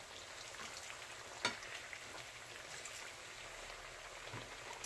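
Hot water cornbread patties fry in very hot grease, giving a steady crackling sizzle with one sharp pop near the middle and no voices.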